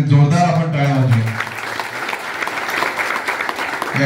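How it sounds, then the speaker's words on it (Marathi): A crowd applauding at a political campaign rally for municipal council candidates in Sawantwadi, steady clapping at the start under a loud voice over a PA, then continuing alone. "मंडळींसाठी जोरदार आपण टाळ्या वाजवूया"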